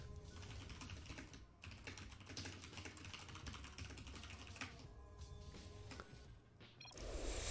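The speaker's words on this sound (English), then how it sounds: "I'm typing calmly." Steady, rapid typing on a computer keyboard, close and continuous key clicks with brief pauses, heard alone without talk.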